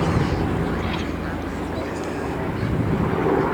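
Catalina amphibian aircraft in flight during an RAF Cosford airshow display, a broad, steady piston-engine roar heard from a distance, fairly uniform throughout.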